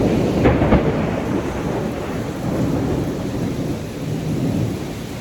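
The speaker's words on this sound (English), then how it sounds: "Am I the only one that loves a nice thunderstorm?" A thunderstorm with a low rumble of thunder near the start over steady rain falling on the ground, heard outdoors at moderate distance, with no voices.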